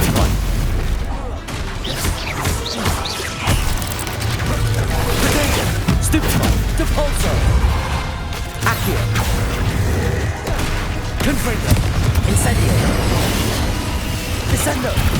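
Spell blasts go off in Hogwarts Legacy, with repeated booms, crashes and whooshes landing in quick irregular succession over layered game combat noise, a voice shouting spell names between them.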